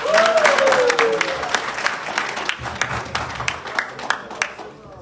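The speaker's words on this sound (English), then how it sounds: "So a quick round of applause for that." Applause at a basketball draft event held at a mosque: a room of people clapping, loud at first and then thinning into scattered claps, with a brief voice over the start.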